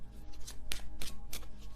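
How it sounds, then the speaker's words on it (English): A tarot card deck being shuffled gives several quick, soft papery riffles in short bursts, fairly quiet and close, with no talking. "I could shuffle this deck."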